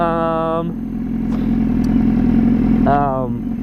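A 2015 BMW S1000RR motorcycle with an SC-Project aftermarket exhaust revving in short bursts, a rising harmonic whine at the start and again near the end over a loud, rough engine rumble.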